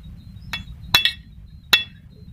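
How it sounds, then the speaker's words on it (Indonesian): A center punch is struck hard against a motorcycle cylinder liner, giving several crisp metallic clinks and taps, a double strike in the middle, close and clear over quiet background. "Saya tes menggunakan penitik atau yang buat menitik sebelum dibor."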